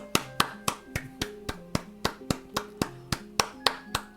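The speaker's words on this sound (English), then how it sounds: "I'll clap for him." Steady rhythmic clapping from the video game In Stars and Time, about fifteen crisp claps at an even pace over a soft game music backdrop, with no talking.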